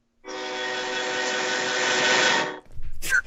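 A train sounds a long, loud, steady horn blast close by for over two seconds, then cuts off and leaves a short burst of rumbling noise.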